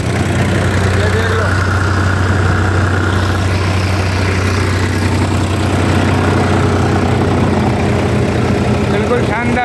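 A Sonalika tractor engine runs steadily at close range, a loud continuous low rumble and throb that holds unchanged throughout.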